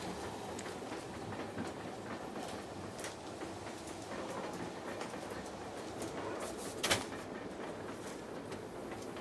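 A train travelling toward a station, heard as a steady rolling rumble and rattle with faint clickety-clack and one brief sharper clank, continuous and moderately quiet with no voices.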